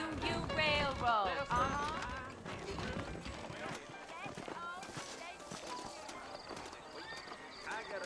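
Saddled horses clip-clop and whinny in Red Dead Redemption's Old West, hoofbeats clear and rhythmic up front, fading under game music and talk.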